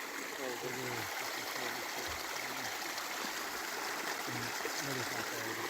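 A mountain stream at a water source along the Great Divide Trail, Section B, trickles and gurgles steadily, with a low, muffled voice-like murmur faintly underneath.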